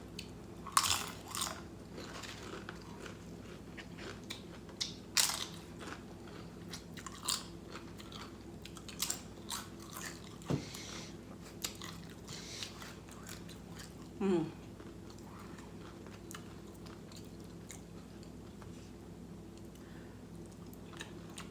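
Close, crisp crunches and chewing of Chipotle tortilla chips from a large bag, in irregular bursts every second or two during a mukbang meal, with no talking.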